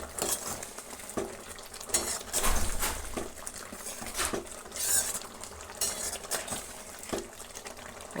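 A spoon scrapes and stirs thick soya gravy with kasuri methi in a pan, repeated clinking strokes over a soft bubbling sizzle, with no talking.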